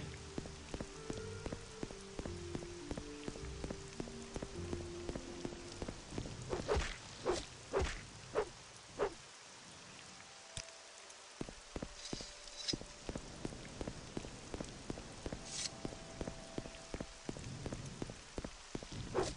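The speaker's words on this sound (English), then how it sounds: "Alright, it's raining now." Rain falls in the video game Morrowind, a soft steady patter on surfaces, accompanied by rhythmic footsteps and faint game music tones. Someone narrates quietly in places.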